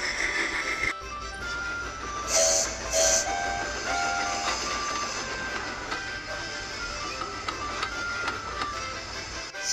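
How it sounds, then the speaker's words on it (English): Two cartoon steam engines pull a train down the main line, a steady chugging rail rumble with short high whistle-like toots early on, moderately loud with no talk. "The guard blew his whistle and the two engines set off."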